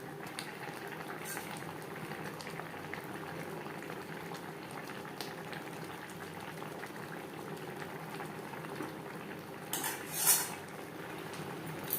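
Bata fish pieces simmering in a gravy with green bananas, a steady low bubbling that holds for the whole stretch, with a few light clinks of a metal utensil against the pot and a brief sharper scrape near the end.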